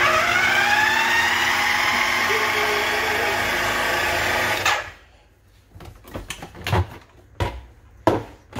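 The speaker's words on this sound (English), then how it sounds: "I have a food processor and my husband does the dishes" A food processor purees fruit with a steady, humming motor whir for several seconds, then shuts off, followed by a few scattered clunks and knocks.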